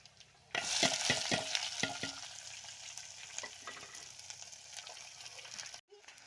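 Onions frying and being stirred in a pan for an eggplant curry, a loud continuous sizzle with a few sharp scraping strokes early on, then steady hissing that cuts out abruptly near the end.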